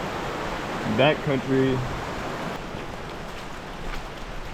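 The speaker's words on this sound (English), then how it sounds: "here we are at Whiteoak Falls and it's pouring" Heavy rain pouring at Whiteoak Falls waterfall in the backcountry, a constant broadband hiss of falling water throughout, with someone speaking briefly over it early on.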